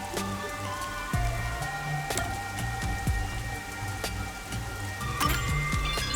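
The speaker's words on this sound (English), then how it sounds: "The rain just won't stop, huh?" Steady rain patters continuously on surfaces in the video game Master Detective Archives: Rain Code, with scattered louder droplet hits and a low looping tone underneath; no voices.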